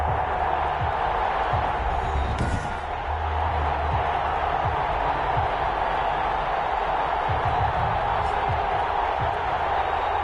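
A packed football stadium crowd before a GFL game between the Dublin Antlers and the Oklahoma City Bison roars in a dense, continuous wash of cheering, loud and unbroken throughout.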